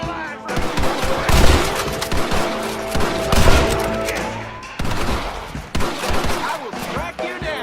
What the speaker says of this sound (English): Open fire! Take out those snipers in the window.